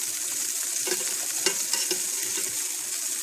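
Rabbit pieces browning in a hot pan give a steady, close sizzle, with scattered crackles and pops from the spitting fat and no talking.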